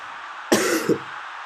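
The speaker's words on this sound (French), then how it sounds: "je fais que tousser." A single short, harsh cough, loud and close, followed by a brief second burst, with quiet background before and after.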